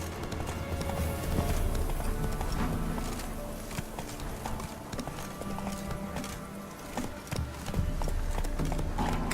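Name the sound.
horse Roach galloping in video game The Witcher 3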